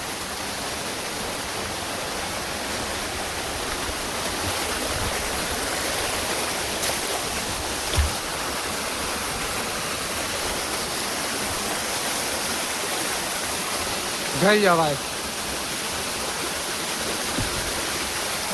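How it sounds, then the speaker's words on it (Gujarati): A monsoon waterfall at Jatashankar on Girnar pours in a steady, close, full rushing roar for the whole stretch, with a brief voice breaking in once near the end. "આયા ધોધ હે."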